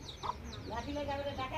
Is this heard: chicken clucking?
yes